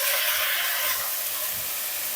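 Tomatoes and peas tipped into a hot pan of chira pulao give off a steady, bright sizzle and hiss, close and even throughout, fading slightly toward the end, with nobody speaking over it.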